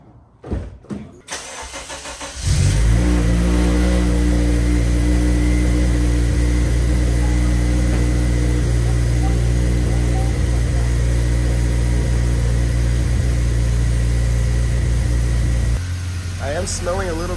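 After a few clicks and cranking, a 2008 Honda Civic Si engine catches and settles into a loud, steady idle close to the microphone, with fuel leaked onto the engine after a fuel rail install.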